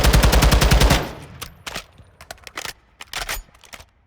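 Assault rifle in Call of Duty: Modern Warfare II firing a loud, fast sustained burst for about a second, followed by several short separate bursts and single shots at close range.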